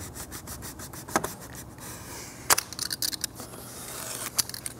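A saw works through four stacked layers of wood at once, giving rough, rasping strokes in uneven bursts close by with no talking.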